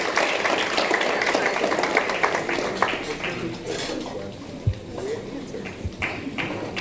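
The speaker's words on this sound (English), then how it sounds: "Ladies, keep the applause going, man." An audience at a law faculty awards ceremony applauds in a steady wash of clapping that gradually thins out, while a presenter talks over it.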